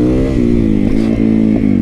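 A street-legal supermoto converted from a raw dirt bike idles and runs steadily close by, its engine note loud and even with small rises in pitch.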